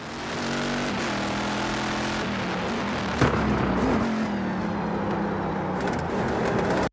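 Loud, distorted race car engine from the iRacing sim heard from a chase camera, a raw, grungy exhaust roar droning steadily throughout with a brief sharp spike midway and rising pitch toward the end.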